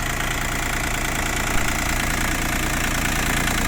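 An Iseki TA247F mini tractor, Japanese-made with a three-cylinder engine, idles loudly and close by. Its steady, knocking rumble continues unbroken, with no voices.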